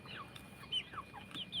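Backyard garden chickens clucking close by, a quick run of short, soft clucks and chirpy calls over quiet ambience.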